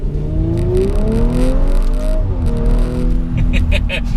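Tuned Audi RS5 with an ABT exhaust revving loudly after a downshift, the engine note climbing and falling in steady sweeps close by, with someone talking over it throughout.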